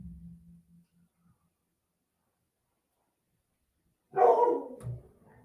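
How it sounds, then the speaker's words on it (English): A dog barks once, fairly loud and close, with a short burst near the end, after faint low rumbling earlier and otherwise near silence. "Dogs barking."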